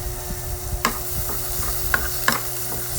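A spoon stirs pork giniling with tomato in a frying pan, soft scraping and clinks over a steady low sizzle from the hot pan.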